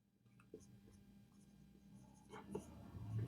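Pen scratching by hand on paper during a math lesson, soft intermittent strokes that grow busier toward the end, faint and close, with low room noise beneath.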